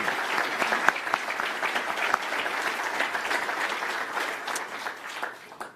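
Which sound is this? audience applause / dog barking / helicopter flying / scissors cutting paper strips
audience applause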